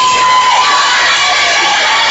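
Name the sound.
crowd cheering at a TCU vs Air Force volleyball match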